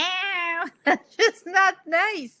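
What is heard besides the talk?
pet cat meowing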